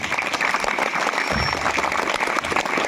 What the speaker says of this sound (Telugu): మంచి చప్పట్లతో అభినందిద్దాం సార్